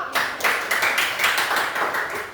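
A high school class claps for a student named Mario, a short burst of dense, close hand clapping with uneven rhythm lasting a couple of seconds.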